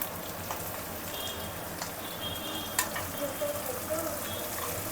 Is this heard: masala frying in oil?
yes